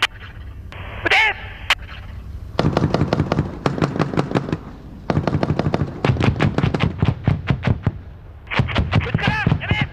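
Rapid bursts of rifle and machine-gun fire at a Japanese military shooting drill, sharp repeated cracks in clustered volleys across the whole span, loud and close, with shouted commands between the bursts.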